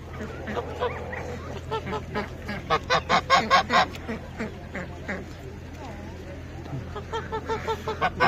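A run of loud, rapid honks from geese bursts out amid farmyard noise at an outdoor livestock market in Łomża, Poland, with people talking close by.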